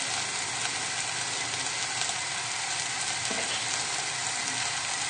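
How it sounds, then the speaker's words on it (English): Garlic and ginger sizzle steadily in a hot frying pan while cooking sweet and sour sauce, a loud, continuous hiss with no talking. "if it's sizzling like mine, just turn the heat down now, because you don't want anything to burn"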